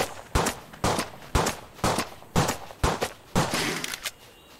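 A gun loaded with poison bullets in the CryoFall survival game fires repeated single shots at a steady pace, about ten sharp loud reports close by, with no talking.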